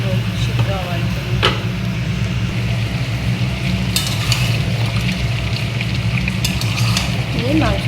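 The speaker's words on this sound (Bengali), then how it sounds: "এই মাংসটা প্রায় কষা হয়ে এসছে।" Chicken curry meat frying in a pan, a steady loud sizzle with occasional utensil knocks and scrapes, under a low background hum, with a voice speaking over it.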